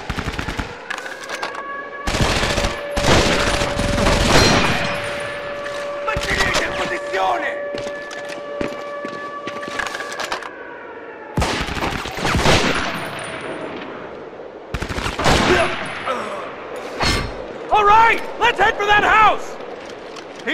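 MG-42 machine gun fire in the video game Medal of Honor Vanguard, loud repeated bursts of rapid shots separated by pauses, with ringing metallic tones and shouted game voices between volleys.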